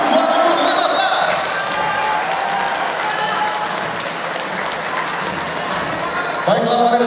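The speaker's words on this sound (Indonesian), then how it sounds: "Sekali lagi tepuk tangan yang meriah untuk para peraih penghargaan" Sustained applause from an audience at an Indonesian award ceremony for the Adipura 2015 recipients, a steady dense clapping that continues throughout, with an announcer's voice over it at the end.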